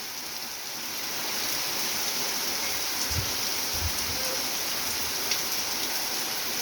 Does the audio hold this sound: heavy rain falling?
yes